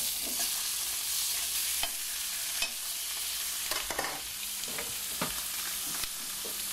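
Chicken stock deglazing a hot pan into a pan sauce: a continuous close sizzle with intermittent scraping stir strokes across the pan bottom, moderately loud and with no speech.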